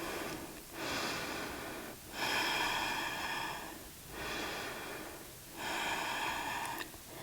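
Deep, audible yoga breaths drawn in and let out slowly, about three full cycles of long airy inhales and exhales, close and steady with no talking.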